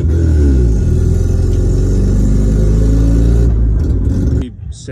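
A street-ported 12A rotary engine in a Mazda RX7 with Holley Sniper EFI revs hard and close, a loud buzzing drone that holds steady before dropping off abruptly near the end, with talk faintly underneath.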